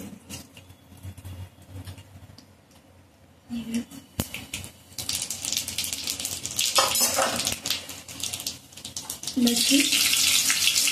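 Mustard seeds sputter and fry in hot oil for a Maharashtrian amti, quiet at first and then rising into loud, dense crackling and popping that continues to the end.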